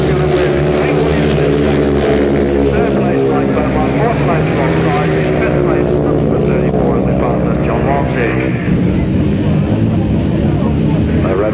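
Grasstrack racing motorcycles at the 1988 British Masters rev together before the start, a dense sustained engine roar that swells steadily, with a commentator talking over it.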